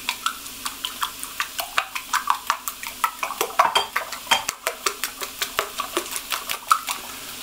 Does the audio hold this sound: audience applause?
no